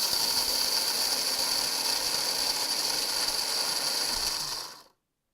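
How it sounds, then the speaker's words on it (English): A small electric coffee grinder runs steadily on a linseed mix with the lid on, a loud continuous high-pitched whirring grind that stops abruptly near the end. "This is now a small little electrical coffee grinder."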